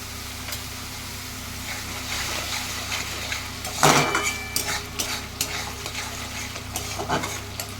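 Spice paste frying in a pan gives a soft, steady sizzle, broken by scraping stirs and a sharp clink of the spoon against the metal, with no talking.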